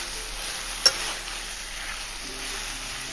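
Snake gourd stirred and sautéed with tomatoes in a pan, a faint steady sizzle with a single sharp utensil tap near the start.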